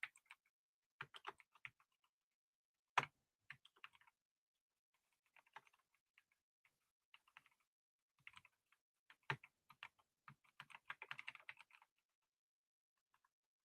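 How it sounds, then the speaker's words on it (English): Computer keyboard keys tapped in scattered bursts and short runs, with pauses between, close and fairly quiet, denser typing near the end. "while I'm typing something up here"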